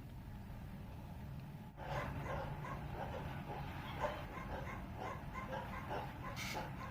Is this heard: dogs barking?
yes